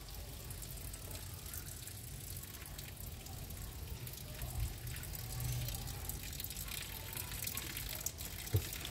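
Hot water gushing steadily from an opened car radiator during a leak repair, a continuous broadband rush with faint splashes and no talk.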